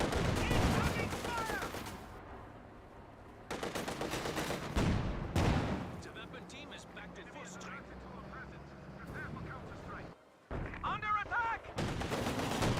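Gunfire bursts from the real-time strategy game Company of Heroes 2, with rapid crackling volleys that come and go in several loud clusters under steady live commentary.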